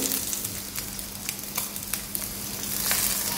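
Chopped potatoes added to hot oil over fried onions, sizzling loudly and continuously with sharp crackles and spatula clicks scattered through, close and alone.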